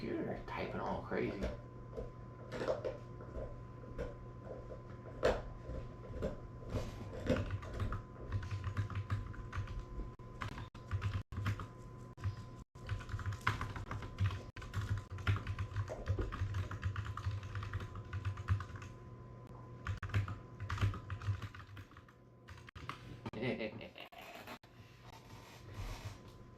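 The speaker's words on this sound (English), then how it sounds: "Computer typing all crazy." Rapid, busy computer keyboard typing clatters on and off across the clip, at moderate level, mixed with indoor room noise and occasional speech.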